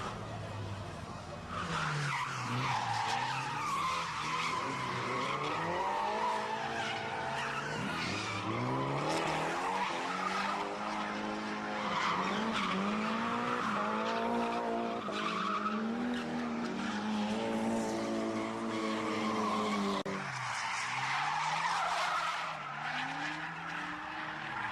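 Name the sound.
front-drive Daihatsu drifting on street corner, tires skidding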